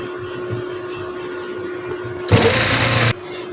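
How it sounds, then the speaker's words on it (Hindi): Sewing machine stitching the corner of a farshi shalwar, with a steady low hum at first, then a loud, brief run of rapid stitching for under a second before it stops. "इस तरीके से इसको काट के इसके कॉर्नर पे हमने सिलाई लगानी है।"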